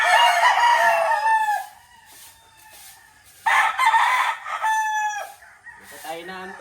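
Roosters crow loudly at a chicken coop in the morning, several long drawn-out crows close by with pauses between them, while hens cluck softly in the background.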